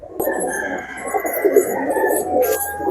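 A white racing pigeon coos close by in its loft, soft throaty rolling calls with faint chirps from other birds behind.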